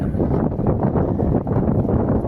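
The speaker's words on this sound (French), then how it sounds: "là les rafales" Strong wind gusts at a sailboat anchorage beside a Greek island village, a loud continuous rushing roar buffeting the microphone with no speech.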